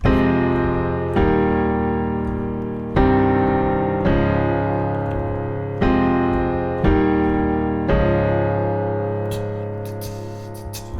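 Piano chords from the pre-chorus of a song strike one after another at a steady, unhurried pace, each ringing out and decaying before the next, with no voices.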